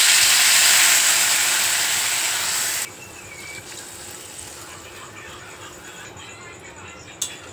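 Water is poured into a pan of frying taro and potato curry, giving a loud steady sizzling hiss that drops sharply partway through to a quieter simmering crackle, with a brief clink near the end.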